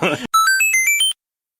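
A voice speaks briefly, then a quick electronic jingle of rising and falling tonal beeps plays loud and clean before cutting to silence.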